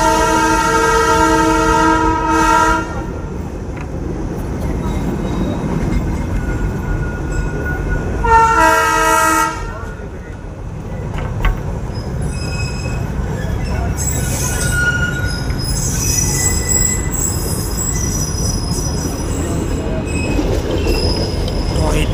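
The Darjeeling toy train on the NJP to Darjeeling run sounds its horn loudly twice, with wheels squealing and carriages rattling steadily close by throughout.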